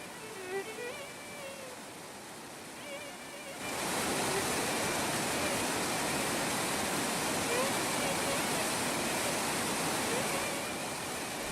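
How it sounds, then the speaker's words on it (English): The Himalayan river Hiranavati rushes over rocks and boulders below a temporary twig bridge, a loud, steady roar that surges in after a quieter start and continues without a break. "rolling down briskly, cuddling and nuzzling rocks and boulders, this rusty river called Hiranavati takes a noble new name here"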